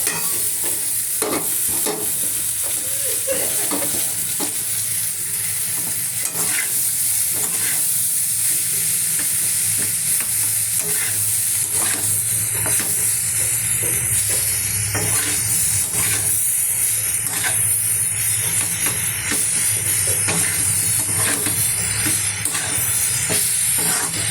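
Chopped bottle gourd added to browned potatoes fries in a pan for a curry, hissing with a steady close sizzle while a spoon scrapes and stirs it at irregular intervals, with no talking.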